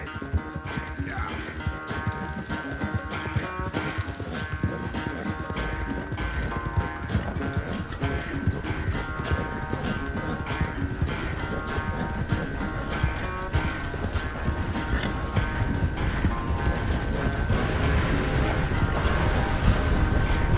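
Horse hooves clip-clop steadily through a Red Dead Redemption 2 scene, a continuous rhythmic patter mixed with game music and ambience at moderate loudness, with speech at times.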